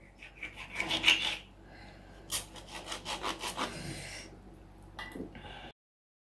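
A headless red snapper being cut through the middle with a knife for frying, giving a run of close rasping, scraping strokes in short bursts, then stopping abruptly.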